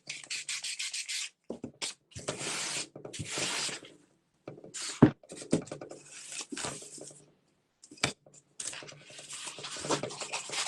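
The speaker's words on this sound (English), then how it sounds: "I'm going to use my larger, my 320 grit, and just go over it again" Sandpaper of 320 grit rubbing over a base coat in close, dry scratchy strokes that come in bursts with short pauses between them.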